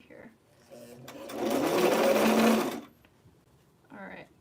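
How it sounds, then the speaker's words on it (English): Sewing machine stitching a zipper onto a vintage 1950s wiggle dress, a steady mid-pitched whirring run of about a second and a half, close and clear, with someone talking briefly before and after. "there's like some fringy nonsense here that likes to get caught under this presser foot"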